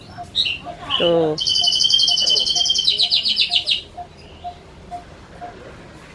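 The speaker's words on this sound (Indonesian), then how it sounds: "Ada suara burungnya. Ini si bapak yang punyanya suka pelihara burung." Caged birds kept at a plant shop chirp and trill close by, with a quick rising series of notes followed by bright repeated tweets over faint background noise and a brief spoken word.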